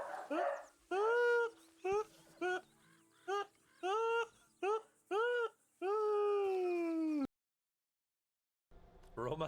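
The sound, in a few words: dog whimpering cry in video game Final Fantasy 14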